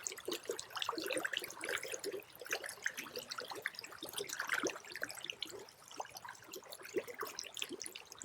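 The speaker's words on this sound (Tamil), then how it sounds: "நல்லா அந்த தண்ணி சத்தம் இதை கேட்டிங்கனாவே உங்களுக்கு தெரியும்." Water flows and trickles in Bishan Park, a city park in Singapore, a soft, continuous babble with small splashy bursts, faint and alone without voices.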